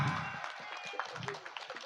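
Audience applause at a jaranan folk performance event in Sobontoro village, a fairly faint, continuous patter of clapping with crowd noise and music mixed underneath.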